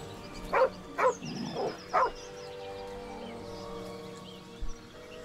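A small dog in the Baldur's Gate 3 video game gives three sharp barks in quick succession, then a soft whimpering whine and one last short yip, fairly close against a quiet ambient game background.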